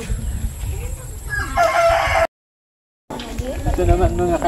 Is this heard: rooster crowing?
yes